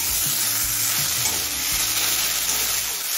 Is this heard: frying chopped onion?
yes